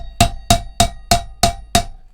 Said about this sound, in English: Hammer on that a little bit.